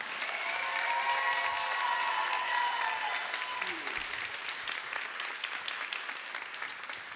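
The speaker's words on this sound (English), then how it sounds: "Let's give another round of applause to our 6 non-finalist contestants." An audience at a Miss Virginia Volunteer pageant finals night claps for the contestants, steady applause with a few whoops that eases off slightly toward the end.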